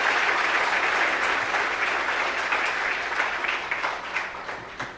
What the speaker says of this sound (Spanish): Dale un fuerte aplauso a nuestro Señor y Salvador Jesucristo.